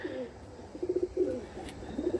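A red-headed pigeon coos softly nearby, giving a few short rounded coos in quick groups with brief pauses between them.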